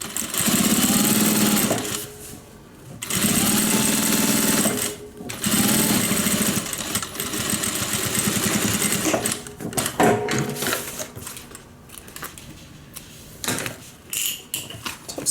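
A sewing machine stitches the top panel of a cabin bag at a joining stitch length, fast rattling bursts of stitching lasting a few seconds each, broken by short pauses, close and loud.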